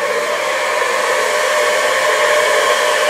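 Hair dryer blowing hot air while hair is styled with a round brush, a loud steady whooshing roar held close and unbroken, with no talk.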